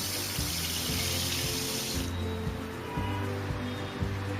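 About ten cups of water run into a pot for sugar syrup, a loud, steady rushing pour close by, easing off partway through while a low rhythmic hum continues underneath.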